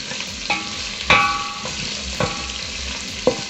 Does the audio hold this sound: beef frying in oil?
yes